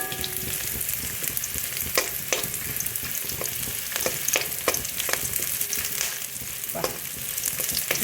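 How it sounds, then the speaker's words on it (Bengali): Whole spices fry with onions in a pan, giving a loud, steady sizzle close by. Stirring scrapes and clinks cut through it now and then, and no one talks. "গোটা মশলাটা দিয়ে দিলাম।"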